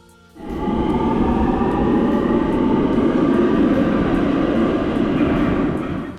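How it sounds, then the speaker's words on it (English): A Baltimore subway train rumbles and roars loudly as it pulls away from Charles Center station, a steady heavy rolling noise with wheel clatter that starts abruptly and continues close by. "watch old and new trains pull away"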